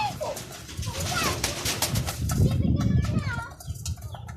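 Young racing pigeons flap their wings in short bursts with soft coos and calls nearby, while people talk over the birds throughout.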